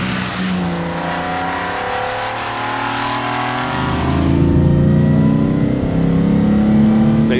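Track-prepared 1955 Mercedes-Benz 300SL with a 3,000 cc inline-six and a four-speed straight-cut gearbox, its engine droning steadily up close before revving louder and higher partway through.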